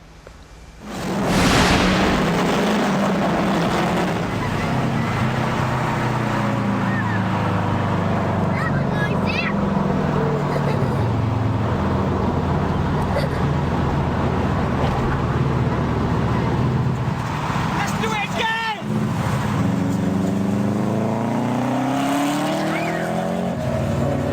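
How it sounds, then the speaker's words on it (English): Car engines roar loudly and continuously with a hollow, echoing quality, rising and falling as they race through a tunnel in the UK. "cars racing through a tunnel in the UK"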